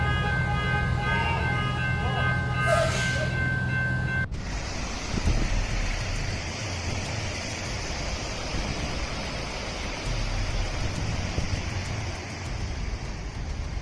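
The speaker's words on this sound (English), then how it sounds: "turned a road in Miyazaki into a raging river. Water swept everything away" Flood water rages over a road in Miyazaki during Typhoon Shanshan, a dense, continuous roaring rush that follows a brief siren-like tone at the start, loud and close.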